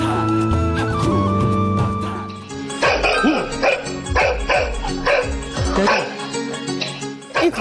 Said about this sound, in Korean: 바로 아들이 가리킨 곳에서 개 짖는 소리가 들려오고 있었는데요